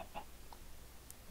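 A Minecraft chicken gives a few faint, scattered clucks at low volume, short isolated chirps spread over a quiet background.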